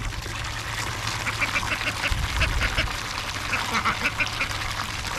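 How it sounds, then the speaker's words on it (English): Several ducks quack busily around a freshly refilled water container on a farm, irregular overlapping calls close by against a steady hiss of background noise. "Mama Duck right here, she's pretty protective of them"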